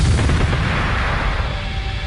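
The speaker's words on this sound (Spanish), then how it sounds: "A las 3:22 de la tarde, una terrible explosión sorprende a todos." A commando squad storming an embassy sets off an explosion: a loud, heavy, rumbling blast with a dense low roar sustained for about two seconds, no voices heard.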